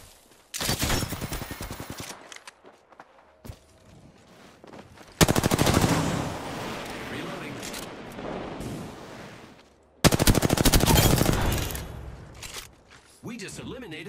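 Automatic gunfire from a battle royale video game, rapid loud bursts in three separate volleys with short gaps between them.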